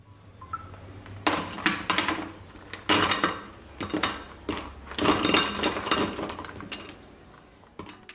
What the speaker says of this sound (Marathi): आता तळून झालेल्या सोयाबीनचा थंड झाल्यानंतर आवाज ऐकूयात.